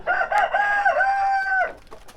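A chicken gives a drawn-out, warbling crowing call lasting over a second, close and fairly loud, followed by quieter background clucks from grey Leghorn hens.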